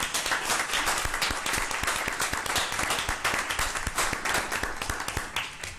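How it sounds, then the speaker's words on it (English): Sustained audience applause at a board meeting, dense and steady claps filling the room for several seconds, with no talk over it. "let's give this young man another round of applause."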